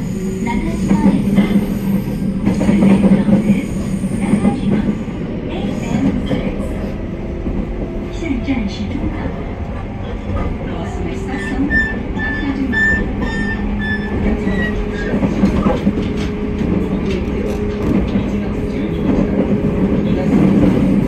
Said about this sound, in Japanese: この列車は普通名古屋行きです。